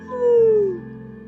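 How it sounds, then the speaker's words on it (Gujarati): A puppy on a farm gives one thin, drawn-out whimper that slides downward in pitch, close and fairly loud over a low steady hum, followed by quiet. "હવે ગલુડિયાને રોટલો નાખશે"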